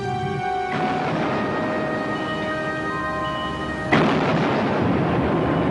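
Cannon fire from the German raider Penguin, shelling a British ship at sea, lands as a single heavy boom over background music, leaving a sustained rumbling roar.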